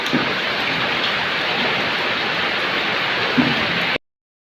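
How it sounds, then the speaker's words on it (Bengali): Steady, dense rainfall hisses evenly for about four seconds, then cuts off abruptly into silence. "দেখুন বৃষ্টি হচ্ছে"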